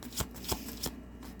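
Tarot cards are shuffled close up for a reading, three distinct riffling bursts at a steady rhythm, soft and quiet, with no voices.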